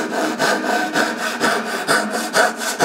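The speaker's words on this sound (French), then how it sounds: "Vous avez vu le rendement à quelle vitesse j'ai scié ça" A Japanese kataba pull saw cuts through wood in quick, regular rasping strokes, about six back-and-forth passes in a few seconds, loud and close with no voices.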